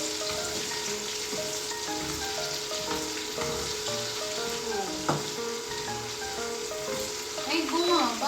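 Carrots and potatoes being stirred in a pot for Batangas-style pochero, a gentle bubbling sizzle with scattered clinks and scrapes of a utensil against the pot, steady and close.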